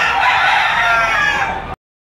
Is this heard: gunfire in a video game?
no